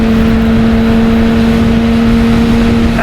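A BMW K1600B bagger motorcycle's engine runs through corners as a loud, steady drone with a constant hum and rushing wind noise and no audible shifts, and nobody speaks.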